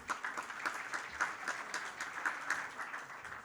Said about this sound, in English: Everyone, can we have a huge round of applause for Dr. Anuj, please?